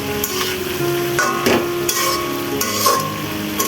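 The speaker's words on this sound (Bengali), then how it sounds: "এখন এই তো টমেটো দিয়ে একটু আলু ভাজি করে নিতেছি" Potatoes frying with tomato in a pan, a sizzling hiss punctuated by repeated sharp spatula taps and scrapes against the metal, close and fairly loud.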